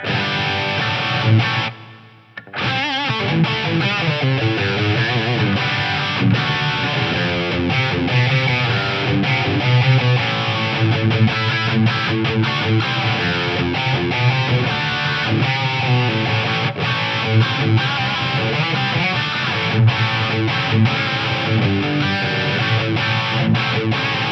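Guitar played through a Roland SRV-2000 reverb with the low end cut, a continuous washy distorted tone with lingering tails, a brief drop near the start, then steady sound throughout.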